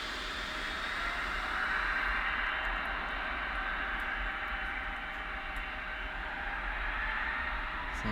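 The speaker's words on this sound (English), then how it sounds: "Bit of engine noise." Simulated aircraft engine noise at an airport in the air traffic control game Tower Simulator 3, set at St. Thomas: a steady, broadband jet roar holding at an even level throughout, with no talk.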